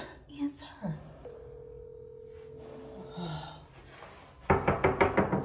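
A quick series of sharp knocks hits a door near the end, loud and close, after a stretch of telephone dialing tones and a steady line tone.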